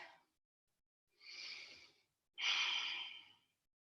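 Big, deep breaths taken while lying on a mat during a Pilates session: three breathy inhale-exhale sounds, close and fairly soft, the last one the longest and strongest, with no talking.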